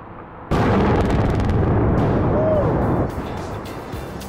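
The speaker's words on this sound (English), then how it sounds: "Each blast contains millions of kilograms of rock, enough to fill around 30 Olympic swimming pools" A quarry rock blast goes off with a sudden loud boom that rolls into a deep, sustained rumble lasting a few seconds before fading, heard from a distant vantage point.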